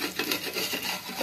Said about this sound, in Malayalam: എന്നിട്ട് നമ്മൾ പാത്രങ്ങളൊക്കെ അങ്ങോട്ട് തേച്ച് മോറി